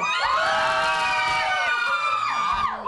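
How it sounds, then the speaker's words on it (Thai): A fan club crowd shrieking and cheering at a live show, many high excited voices overlapping in a loud, sustained wave that fades slightly at the end. "ขอเสียงแฟนคลับที่มาเชียร์น้องกิ่งหน่อยแล้ว"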